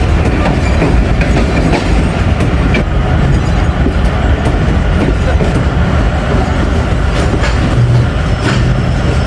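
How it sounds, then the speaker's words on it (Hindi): An express train running into Taxila Cantt Junction station, with a steady loud rumble and rhythmic clickety-clack of wheels on rail joints throughout, close and continuous. "Express Taxila cantt junction railway station पे अप्रोच बना रही है।"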